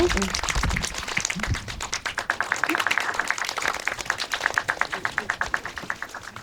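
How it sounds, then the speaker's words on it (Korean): Audience at an indie film talk event clapping steadily, dense applause that settles into a rhythmic, even clap toward the end, moderately distant with a host speaking briefly at the start. "어디 좀 박수 한번 쳐볼까요?"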